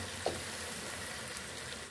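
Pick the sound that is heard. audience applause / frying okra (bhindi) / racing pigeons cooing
frying okra (bhindi)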